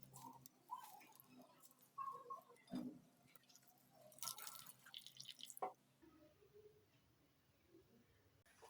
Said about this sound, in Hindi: ये देखें कितनी आसानी से इसमें से पानी निकल रहा है।